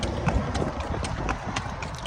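Horse hooves clip-clopping on pavement during parade training beside a busy expressway, a steady rhythmic series of close, sharp hoof strikes with faint background noise.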